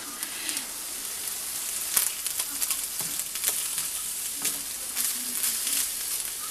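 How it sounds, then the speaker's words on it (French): Garlic, ginger and beef sizzle steadily in a pan for a Chinese-style beef dish, with a continuous crackling hiss and occasional louder pops and stirring scrapes, close and fairly loud. "Et je vais faire revenir un peu tout ça avec la viande, le faire légèrement cuire."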